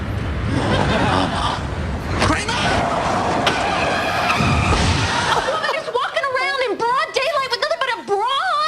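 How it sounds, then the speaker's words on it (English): A car crash scene from the sitcom Seinfeld, with Kramer's car skidding and smashing into something after he is distracted: dense, loud broadband roar and bangs, then laughter and a voice over quieter background near the end. "This episode, this woman's risque outfit caused the distracted Kramer to crash his car"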